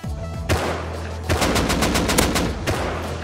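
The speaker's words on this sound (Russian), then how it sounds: "Откуда калаш стреляет?" In the game Rust, an AK (Kalashnikov) rifle fires close and loud in rapid automatic bursts: a short burst, a pause, then a longer sustained string of sharp cracks with no talking over it.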